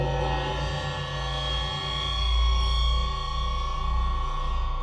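A low cymbal recording pitched down an octave, heard as a sustained, dense metallic drone with a heavy low-end rumble and ringing tones, steady and loud throughout with no voices.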